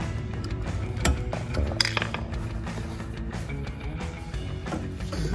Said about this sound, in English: we're going to take our cotter pin out after we had it marked here